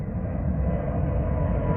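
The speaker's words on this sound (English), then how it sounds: "Excuse the aeroplane." An aeroplane passes overhead beside a lake during carp fishing at Wraysbury, a steady, fairly loud broadband engine roar that holds evenly throughout the short stretch with no talk.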